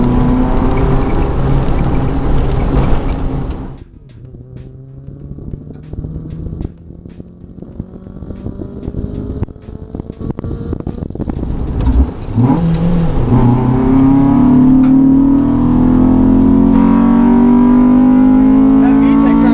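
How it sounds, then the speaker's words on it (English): Modified Honda Civic EK hatchback race car with a VTEC engine, loud and close, revving and pulling hard in bursts, dropping briefly and then climbing to a sustained high-pitched wail, with voices talking over it. "That VTEC sounds real nice"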